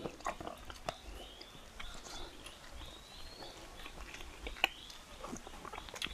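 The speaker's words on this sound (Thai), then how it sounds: "กัดกระห้อน สด" Teeth crunch into fresh, firm santol fruit up close, producing a few sharp crisp bites and then wet chewing and mouth sounds, with a distinct louder snap close to the end.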